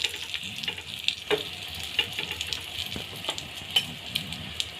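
Pizza paratha sizzling in ghee on a hot pan, a steady close crackle and hiss with small pops and spatters throughout, no voices.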